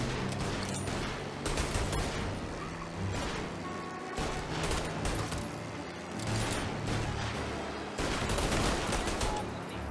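Gunfire in Mafia Definitive Edition, dense volleys of shots with bursts and heavier booms layered over one another, loud and near, coming in waves that break off briefly at a few points.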